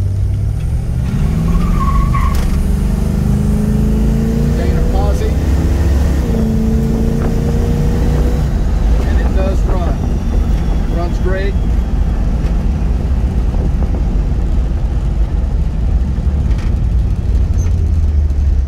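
A 1970 Plymouth Barracuda with a 440 Six Barrel V8 drones loudly on a test drive, its engine note rising and falling through gear changes and downshifts while someone talks over it.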